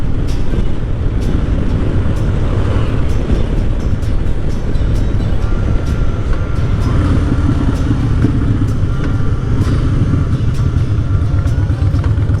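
A worn motorcycle engine in need of repair runs continuously while riding at night, a loud steady drone with a rough, buzzing rumble and faint ticks throughout.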